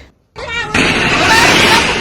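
Diwali firecrackers bursting during a home celebration: a loud, sustained crackling roar that fills the clip after a brief silence, dense and close with no clear gaps.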